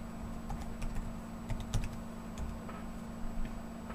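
Keys are tapped on a Windows 8.1 laptop keyboard in quick, irregular clicks, close and fairly quiet over a steady electrical hum.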